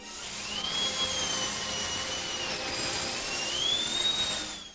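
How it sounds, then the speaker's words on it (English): A steady high-pitched dental drill whine, its pitch rising and falling slightly, continuous and fairly loud throughout. "Yep, that's the sound of a dentist drill."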